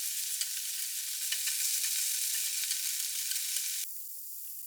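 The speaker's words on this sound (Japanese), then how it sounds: "あとは全部火が通るまで焼きます" Food sizzles steadily in a frying pan while a quick bento is cooked, a dense continuous hiss with small crackles that shifts to a thinner, brighter sizzle near the end.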